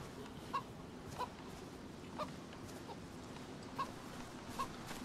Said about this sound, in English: We could kill this chicken